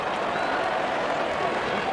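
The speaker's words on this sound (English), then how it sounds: "the crowd cheering in anticipation" A large crowd at an India versus Pakistan cricket match cheers and applauds, a dense, steady roar of voices and clapping that fills the whole stretch without a break.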